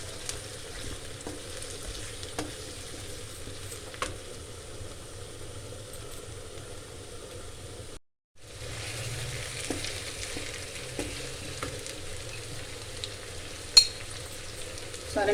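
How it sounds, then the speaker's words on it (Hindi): Chicken leg pieces fry for chicken karahi with a quiet, continuous sizzle and occasional stirring clicks, broken by a brief silent gap partway through. "अब हम इसको अच्छे तरीके से फ्राई करेंगे।"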